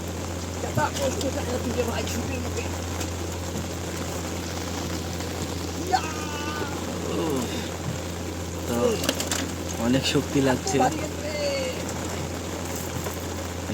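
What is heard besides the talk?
heavy rain while casting a fishing net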